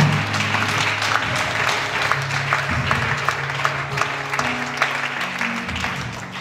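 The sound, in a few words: congregation applauding for Jesus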